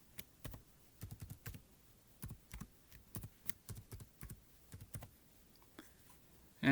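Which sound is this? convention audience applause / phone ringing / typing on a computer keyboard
typing on a computer keyboard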